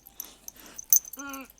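A small brown dog whines close by in short high whimpers, ending in one drawn-out nasal whine.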